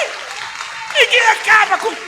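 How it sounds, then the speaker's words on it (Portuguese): Applause from a church congregation swells and fades in bursts while a preacher speaks loudly over it. "Aplaude de novo."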